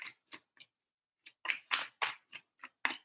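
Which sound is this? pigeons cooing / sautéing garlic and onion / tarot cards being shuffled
tarot cards being shuffled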